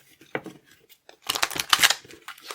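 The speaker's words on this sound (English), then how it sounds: "I am not good at the sideways shuffle" Tarot cards riffle and flap in short bursts, a few soft snaps followed by a longer crisp sideways shuffle, close and fairly quiet.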